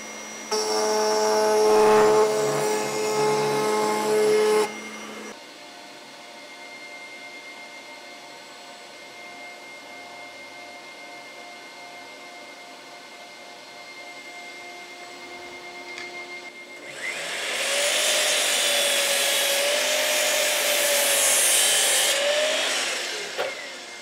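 A bandsaw cutting a glued-up block of ash, walnut and cherry, a loud steady whirring cut at the start and again near the end, with a quieter running hum between the two passes.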